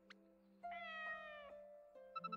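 Cat meowing in the video game Inazuma Eleven GO Galaxy, a soft drawn-out meow over a quiet background tone, followed by a few short faint chirps.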